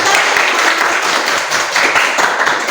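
Children in a classroom clap their hands together in a steady, dense burst that lasts the whole stretch at an even, fairly loud level.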